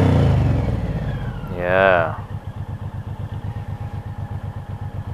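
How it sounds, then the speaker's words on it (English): A Suzuki Intruder cruiser motorcycle idles with a lumpy, pulsing throb and gives one quick rev that rises and falls. A person talks briefly during the rev. "Let's give it a rev."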